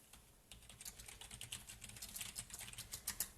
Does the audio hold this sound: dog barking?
no